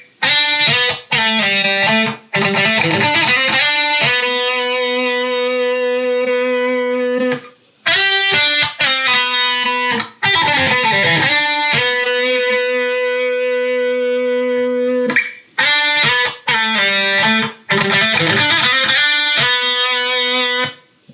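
Distorted electric guitar played through a JST Toneforge Mesa amp simulation, loud sustained chords and ringing notes in several phrases, separated by short abrupt silences, with no talking.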